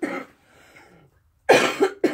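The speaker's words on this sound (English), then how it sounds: "ever since then, I've had this cough" Two short bursts of coughing, harsh and close, separated by a quiet pause with faint breathing.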